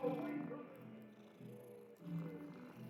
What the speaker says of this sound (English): What have we got here? Oh, it's a cat.